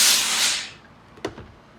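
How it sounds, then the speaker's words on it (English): A steam iron hisses briefly as it steams open a fabric seam on the nose of an ironing board while sewing a mask, a loud puff that fades out, followed by a soft knock. "I'm just going to steam it open."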